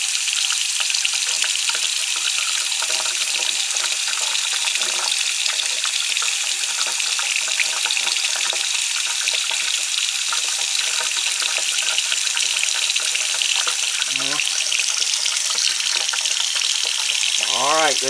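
A sink faucet runs in a constant broadband rush of water, steady and close, with a few faint clinks near the end during a corner pedestal sink install.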